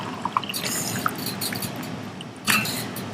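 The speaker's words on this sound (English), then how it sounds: "Alright, we are going to pour the water in" Hot water is poured into a cup of tea, with a few small drips and clinks early on and a brief splashing pour near the end, quiet and close.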